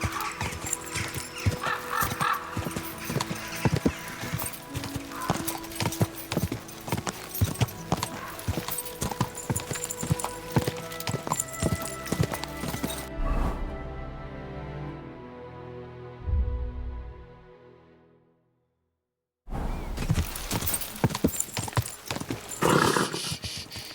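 Horse hooves clip-clop in a fast, steady rhythm in Kingdom Come Deliverance 2, layered with game music and ambience, then slow and fade before a short silence and a resumed burst of sound.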